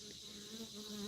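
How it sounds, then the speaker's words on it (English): A cicada drones in an outdoor garden, a faint, steady high buzz that carries on without a break and no talking over it. "Here's the cicada."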